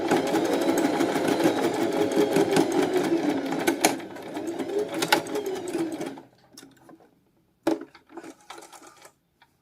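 A sewing machine stitches a dress lining to a zipper in a fast, continuous whirring run. It stops abruptly, leaving near silence broken by a few small clicks and taps.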